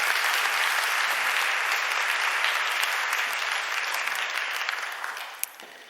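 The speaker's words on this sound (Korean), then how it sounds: "여러분들 환영의 박수 부탁드리겠습니다" A church congregation applauding to welcome newly registered members during a Sunday service, a sustained, even burst of clapping from a large crowd that slowly tapers off.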